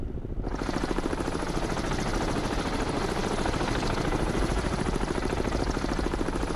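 Dense, steady rotor-like rumble of a helicopter in the Cold Waters naval submarine game, loud and continuous with a rapid chopping texture after a brief quiet opening.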